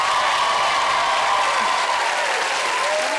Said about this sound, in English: We're going to give you a lovely round of applause